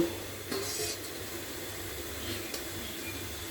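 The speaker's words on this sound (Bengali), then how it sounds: "এখন আমি ভালো করে ডেকে দেব এই যে ঢাকনির সাহায্যে ঢেকে দেব" A lid set over a steaming pot of bhapa pitha, a stuffed fish rice cake, giving a short metallic clink and scrape of cookware over a low, steady steam hiss, close and fairly quiet with no talk.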